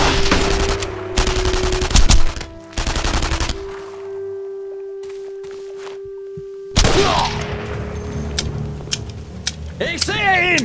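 Bursts of automatic gunfire and single shots in an open-world war video game, loud and close, coming in clusters with gaps and ringing tones between, followed by a sharp burst and fading noise.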